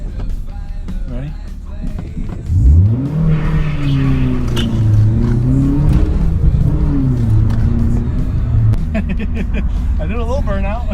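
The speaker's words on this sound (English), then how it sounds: "I did a little burnout." An SR20-powered Infiniti G20 revs hard during a front-wheel-drive burnout, its engine note climbing and holding loud and close. Tire noise runs beneath the engine, and a few faint voices come through over it.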